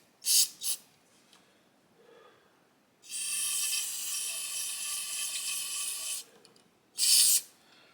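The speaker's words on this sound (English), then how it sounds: "let me squirt some carburetor cleaner in there" Gumout carb cleaner sprays into a Craftsman lawn mower's carburetor as two short hissing bursts, a long steady three-second spray, then one more quick blast, all close and loud with no talking.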